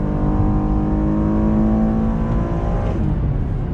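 A 2019 Cadillac CTS luxury sedan accelerates hard on a highway. The engine note rises steadily from inside the cabin, then drops sharply as the automatic gearbox shifts up near the end, with no talk.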